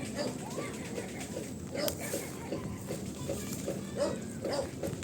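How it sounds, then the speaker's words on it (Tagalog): Dogs bark in short repeated yaps at a moderate distance, spaced across the clip over a faint outdoor background. "Mga aso."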